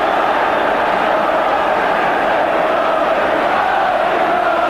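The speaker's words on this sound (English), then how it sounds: "Just listen now to this Old Trafford crowd" A 1985 Old Trafford football crowd roars steadily just after Paul McGrath's equaliser for Manchester United against Liverpool, giving a dense, continuous wash of cheering and chanting from a large stadium throughout.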